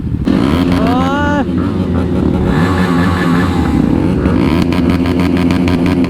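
A motorcycle engine idles and rumbles close by, with a brief rising rev near the start and a steady throbbing drone afterward.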